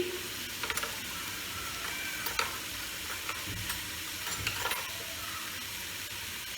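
Egg korma being sautéed with a sour yogurt mixture, giving a dense, continuous sizzle with intermittent stirring scrapes from a spoon in the pan, close and steady.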